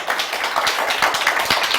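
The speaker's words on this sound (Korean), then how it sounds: "서로 박수하겠습니다." An audience claps together at the close of a lecture, producing dense, steady applause that fills the whole short stretch.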